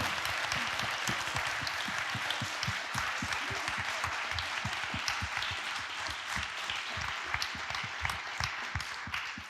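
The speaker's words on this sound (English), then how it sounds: "If we can just give them all a round of applause." Audience applauding panel members after a discussion, dense steady clapping filling the room throughout, loud and continuous with no talk over it.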